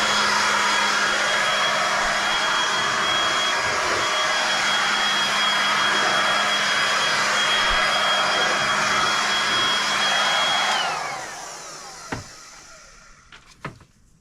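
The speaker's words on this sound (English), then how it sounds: "the next step is to use a blower and just blow." A blower clears sanding dust from a sanded countertop being refinished. Its strong, steady whooshing roar carries a thin whine, then spins down and cuts out, followed by a few light knocks and clatters in near silence.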